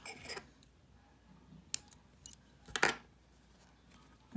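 Scissors cutting crochet yarn, a few sharp, quiet snips close by, spread across a mostly silent stretch.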